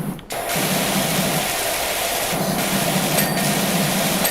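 Power washer in Power Washer Simulator spraying in a steady, loud hiss that starts abruptly after a brief pause and runs continuously, with faint pitch shifts and short flickers, no voices over it.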